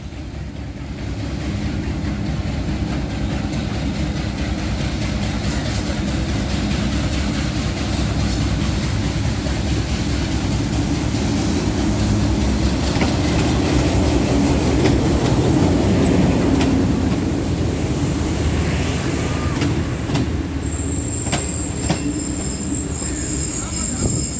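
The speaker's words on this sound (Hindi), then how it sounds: "आप देख सकते हैं मेरी स्क्रीन पर 8308 लोकोमोटिव PHA-20 इसको लीड कर रहा है।" Rehman Baba Express, led by PHA-20 locomotive 8308, arriving at Taxila railway station: a steady loud rumble of rolling train wagons with wheel squeal and clickety-clack throughout.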